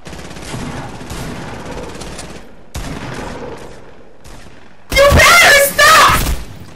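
Bursts of gunfire in the Fortnite video game, with scattered shots under a muffled game mix, then two loud, close bursts of rapid fire near the end.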